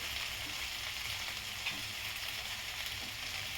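Ghee sizzles steadily in a pan of bhuna chicken masala, a continuous bright frying hiss with faint stirring and no talk.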